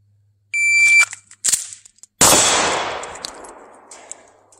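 Gunshots ring out on a shooting range during a marksmanship drill at a target: a few sharp, loud reports with a brief electronic beep tone before them, the last shot trailing into a long echoing decay.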